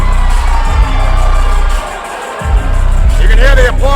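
Arena crowd cheering and applauding as an MMA fighter from SBG Buford walks to the red corner, a loud sustained roar with whoops, shouts and whistles rising toward the end.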